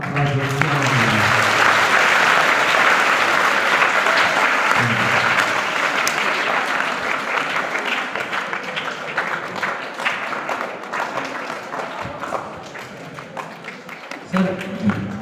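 A school audience at a model school event claps in sustained applause, a dense, loud wash of many hands that holds steady for the whole stretch and only thins slightly toward the end.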